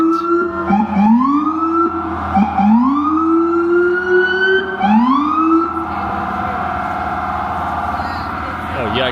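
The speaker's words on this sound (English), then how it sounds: "I think an ambulance is trying to get by." An ambulance siren wails on a snowy Midtown Manhattan street, loud and close, repeatedly rising in a whooping pattern before shifting to a steadier tone, with street noise beneath.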